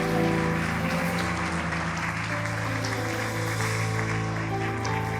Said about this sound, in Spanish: Den un aplauso fuerte al Señor